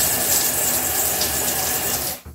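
Water gushes steadily from a bathtub filler tap during installation, a loud, continuous rushing flow that runs without a break, then cuts off abruptly near the end.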